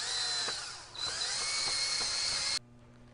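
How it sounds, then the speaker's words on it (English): A power drill spins a wire brush against a wheel hub's mating surface, a loud whining buzz with scratchy bristle contact that dips briefly midway, then stops abruptly near the end. "we're going to go ahead and use a drill and with a wire brush and clean the contact surface"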